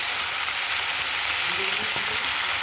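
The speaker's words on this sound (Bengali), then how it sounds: "মাছ ভাজা তুলে নিয়েছি, কালো জিরা ফোড়ন দিয়ে দিলাম।" Black cumin (nigella) seeds crackle and sizzle in hot oil left from frying fish, a loud close hiss with scattered spatters and a light scrape near the end.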